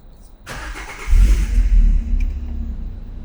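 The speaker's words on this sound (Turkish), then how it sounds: "Bir marş bas istiyorsan" A Citroen C2 VTS engine is started: a short starter crank, then the engine catches and idles with a loud, steady low rumble that settles into an even idle, heard close up.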